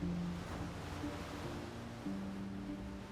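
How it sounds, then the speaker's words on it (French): A continuous, rushing roar of ocean surf in a northern coastal setting, dense and steady, with a faint low tonal drone underneath. "Dans le vacarme assourdissant des vagues"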